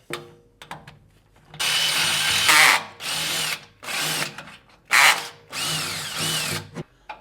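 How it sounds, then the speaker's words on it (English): A reamer in a power drill cleans up a bolt hole in a track bar bracket, whining in several bursts of varying length with short pauses between them, loud and close. "I'm going to use this ASS Reamer to clean up this hole a little bit"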